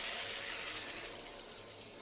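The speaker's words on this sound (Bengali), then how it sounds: "আমি মাপ মতো জল দিয়ে দেবো" Water poured into a pan of fish curry, a short, faint rushing splash that eases off after a second, with no speech.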